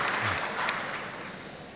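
Audience applause for a government minister at a forests and green growth summit in Southeast Asia, a steady wash of clapping across the hall that slowly tapers off.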